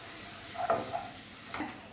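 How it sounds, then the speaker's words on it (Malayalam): Ground coconut paste for a Kerala moru curry sautés in a pan, a soft steady sizzle with a few faint scraping stirs, quiet and close. "ഇവിടെ ഇപ്പോൾ അരപ്പ് നന്നായിട്ട് വഴന്നു വന്നിട്ടുണ്ട്"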